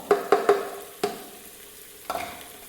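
A spoon stirs chopped ginger, garlic and green chilli frying in a pan for Kerala-style beef curry, giving several quick scraping knocks over a soft sizzle, close and loud.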